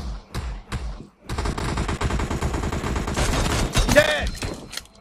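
Rapid automatic gunfire in PUBG Mobile during a gun-game mode match in the Library map, a loud dense burst of shots after a few isolated reports, with a player talking over it.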